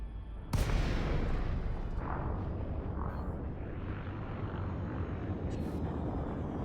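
A sudden loud blast in a space flight video game erupts and then rolls on as a long, roaring rumble that slowly fades but keeps going to the end.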